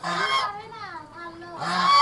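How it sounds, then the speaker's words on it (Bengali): Geese wandering along a roadside let out loud, close honks, one burst at the start and another at the end, with softer calls in between. "দেখো রাস্তার পাশে কত সুন্দর রাজহাঁস ঘুরে বেড়াচ্ছে।"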